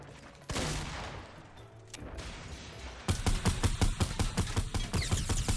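Fortnite Bed Wars match with rapid bursts of gunfire, first a scattered volley, then from about three seconds a dense, loud run of evenly spaced shots close by.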